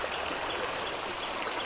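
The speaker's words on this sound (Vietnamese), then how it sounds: "Rãnh suối này hôm nay nước chảy rất là ít luôn nha." A shallow stream with very little water runs through grassy ground, giving a continuous soft trickle and gurgle with faint repeated splashes, steady and fairly quiet.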